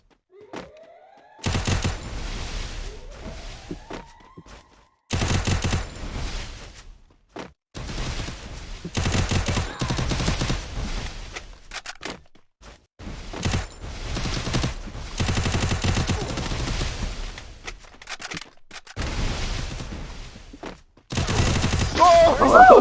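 Free Fire video game gunfire comes in repeated loud bursts and volleys separated by short pauses, with a voice speaking at times among the shots.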